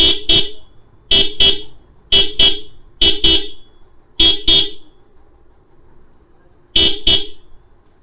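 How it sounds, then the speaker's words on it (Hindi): A Bajaj Pulsar motorcycle horn honks in quick double beeps, repeated six times at a steady pace with short gaps, loud and close. "चलो लगाते हैं और आप लोगों को हॉर्न बजा के दिखाता हूँ"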